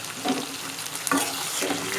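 Mutton pieces frying in a karahi for highway dhaba style karahi, a steady close sizzle with a few stirring scrapes, no voices.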